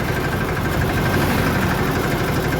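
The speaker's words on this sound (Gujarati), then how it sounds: "ટ્રેક્ટર જાય ધીરે ધીરે આરામથી" A tractor engine runs continuously at a low, even rumble, close by and unchanging throughout.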